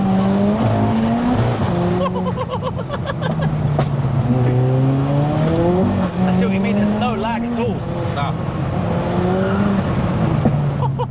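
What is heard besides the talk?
car tires spinning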